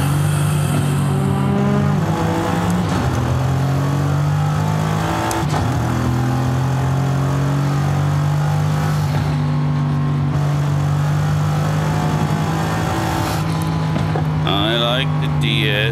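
A 2016 Mercedes AMG C 63 S Coupe, rear-wheel drive with paddle-shift gearbox, its engine rumbling loudly as it drives and revs, pitch rising and dropping between shifts, while someone talks over it.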